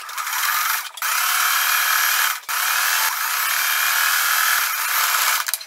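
Sewing machine running a straight stitch, a loud steady mechanical whir that pauses briefly twice and then resumes, close by with no voices.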